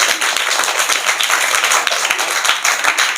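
An audience at a government school event claps steadily for about three seconds, dense and loud with individual hand claps audible through the crowd.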